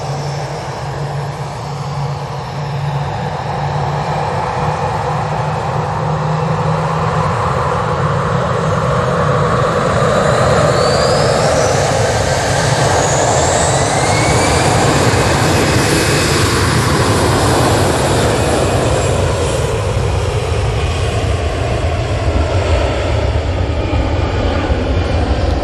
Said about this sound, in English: EasyJet's off to Dallamon this morning.